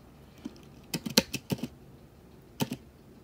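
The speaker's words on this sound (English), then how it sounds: "It's definitely typing" Keys on an Orbit Writer braille keyboard clack in irregular quick bursts, a cluster of close, crisp presses followed by a pause and a final pair, in a quiet room.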